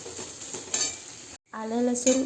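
Ginger-garlic paste sizzles in a pan of golden fried onions, hissing and crackling up close with stirring scrapes. A brief silent gap breaks the sizzle before it returns louder and brighter.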